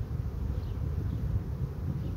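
Honeybees from a small spring colony buzz steadily and continuously at close range, a low droning hum with no voices present.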